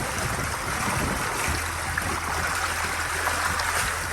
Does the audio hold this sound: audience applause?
no